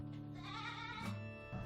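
An Etawa goat bleats during milking on a farm at Lumajang B29 in East Java: one quavering, wavering bleat lasting over a second, quiet and close, with a second shorter cry beginning at the end.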